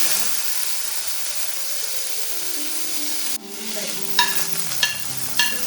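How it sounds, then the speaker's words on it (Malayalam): Mustard seeds splutter in hot oil in a home kitchen, a steady frying hiss that thins out, followed by a few sharp pops and light clinks near the end, close and alone without talk. "കടുക് പൊട്ടി കഴിഞ്ഞപ്പോൾ"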